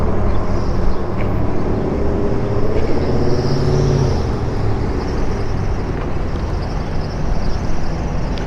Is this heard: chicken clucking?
no